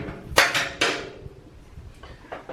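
A regular flat screwdriver pries an LED strip off the metal frame of a TCL LCD TV, giving two sharp metallic snaps close together, then fainter scraping and light taps. No one talks.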